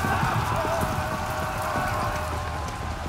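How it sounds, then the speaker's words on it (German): Rain falls in the medieval combat game For Honor, a loud steady patter and hiss with a faint tonal hum and light footstep-like taps beneath it. "Es regnet wieder. Es ist ein Arschwetter."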